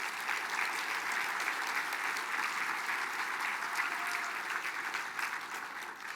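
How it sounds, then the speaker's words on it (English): A steady, dense round of applause from an audience honoring historian Bruce White at a Mille Lacs Band of Ojibwe gathering, clapping continuously and evenly from start to finish. "Can we give Bruce a round of applause,"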